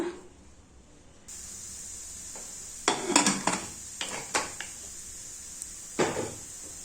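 Metal pot lid set down over a cooking pot of greens in a home kitchen, a few light clattering clinks and taps, close and fairly quiet, with a brief pause between knocks.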